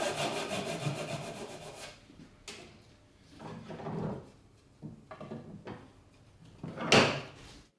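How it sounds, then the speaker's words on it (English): A Dozuki Universal Japanese pull saw cuts through a wooden workpiece for a corner splice joint, giving a run of quick rasping strokes at first, then scattered softer scrapes and a sharp knock near the end, close by and fairly quiet. "For sawing, we use a Dozuki Universal."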